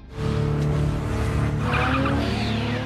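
Car tires skidding as the driver presses the gas while braking in a street racing action film, a loud sustained screech over engine roar that starts abruptly and holds to the end.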